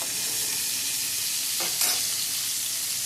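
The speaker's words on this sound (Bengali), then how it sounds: "এবারে পটলগুলো ভাজা হোক একটু একটু করে, গায়ে রং ধরে যাক," Pointed gourd (potol) frying in a pan at home: a steady, soft sizzle runs throughout, with a couple of brief stirring scrapes near the middle.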